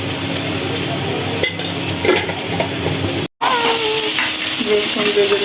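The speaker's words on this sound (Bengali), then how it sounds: "রসুন ভেজে নিচ্ছি।" Garlic frying in a pan gives a continuous close sizzle, broken by scraping and light clinks of stirring and a brief cut to silence partway through.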